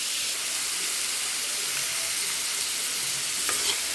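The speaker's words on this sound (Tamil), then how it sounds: "தக்காளி போட்டுக்கலாம் நல்லா வதக்கலாம் இஞ்சி பூண்டு பேஸ்ட்டு போட்டுக்கலாம்" Tomatoes and ginger garlic paste sizzle and fry steadily in a hot pan, a loud, even hiss with occasional stirring scrapes near the end and no talking.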